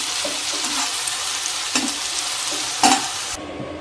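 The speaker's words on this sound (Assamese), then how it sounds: "এতিয়া বিলাহীখিনি অকণমান গলি যোৱালৈকে ভাজি ল'ম" Tomatoes with a pinch of salt fry in a pan, a close, continuous sizzle with a few sharp stirring scrapes before the sound suddenly dulls.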